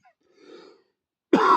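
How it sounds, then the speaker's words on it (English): A person gives a brief muffled cough, then a sharp, loud cough or throat clear lands abruptly near the end of the short clip. "I wish this cough would go away."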